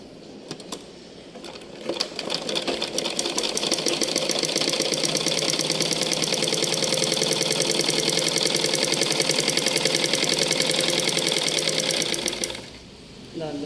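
A sewing machine stitches folded cloth, running in a fast, even mechanical whir of rapid needle strokes for about ten seconds before stopping, with brief handling noises at the start and end.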